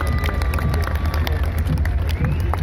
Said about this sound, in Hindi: देवी और सज्जनों, जोरदार तालियां।